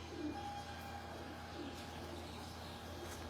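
A pigeon on a Lahore rooftop coos softly a couple of times, brief low calls over steady outdoor background hum, no speech.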